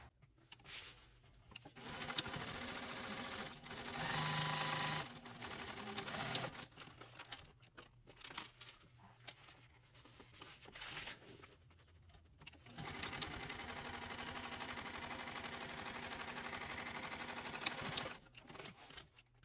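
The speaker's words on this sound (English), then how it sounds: "go to the machine, and we're going to stitch all this together across the top, 1/4 inch seam allowance" A sewing machine runs in long continuous bursts with brief pauses, stitching a quarter-inch seam across the top of a mini crossbody bag; the motor whirs steadily up close with no talking.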